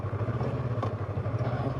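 A motorcycle engine on a mountain road in the Manali-to-Khardung La region, a close, throbbing idle-like pulse with a steady low rhythm over a couple of seconds, no talk.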